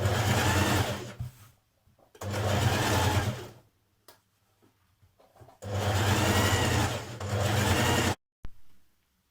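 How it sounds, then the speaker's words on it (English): A sewing machine stitches a skirt side seam in three loud bursts of fast whirring, separated by quiet pauses, ending with a brief click. "Then you're going to stitch your side seam."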